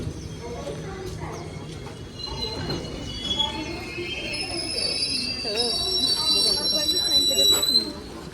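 A train rumbles and clatters with high metallic squeals at a station as passengers board, while people talk nearby over the noise.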